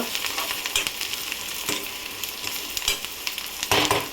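Prawns fry in a pan until browned, crackling and sizzling steadily at moderate volume, with a few sharp stirring scrapes scattered through.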